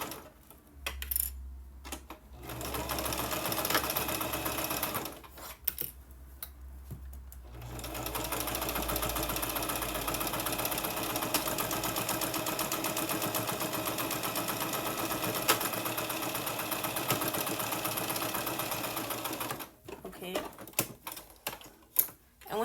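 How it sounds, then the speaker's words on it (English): A sewing machine runs in bursts, stitching fabric lining into a crochet bag, with a rapid mechanical whir in one long central stretch and shorter runs at the start and end, separated by quiet pauses and light handling clicks. "Taking it to my sewing machine."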